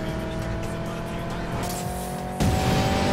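Car racing downhill at high speed in the video game Need for Speed Payback, a continuous engine roar with tire noise that jumps suddenly louder and rougher near the end.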